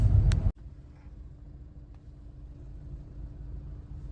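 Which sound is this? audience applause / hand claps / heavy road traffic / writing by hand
heavy road traffic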